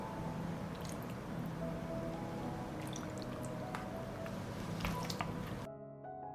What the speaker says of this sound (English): I also pour the remaining juice into the jars.